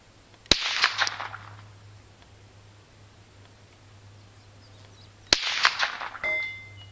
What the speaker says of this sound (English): We're shooting at a 12-inch round piece of steel set up at 200 yards.